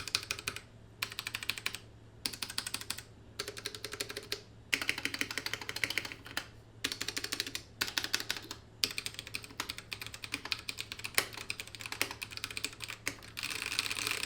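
Typing on a budget hot-swappable mechanical keyboard with no rattle, heard as close, steady bursts of clicky keystrokes broken by short pauses, with no talking.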